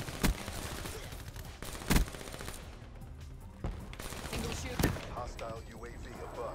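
Disc gun fire in Black Ops 3, a few sharp, punchy discharges spaced apart over a busy game soundscape of background clatter and effects.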